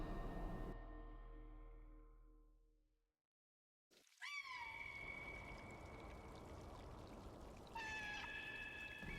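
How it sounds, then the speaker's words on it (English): A cat in the video game Stray meows twice in drawn-out, rising cries over steady background noise, after a stretch of near silence. "I hear the desperate and painful meows from my mother."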